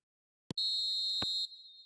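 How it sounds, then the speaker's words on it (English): A referee's whistle in an eFootball match signals the end of the first half, a short sharp click followed by a loud, steady shrill blast lasting about a second, then fading under crowd noise. "as the whistle blows, we remain where we started"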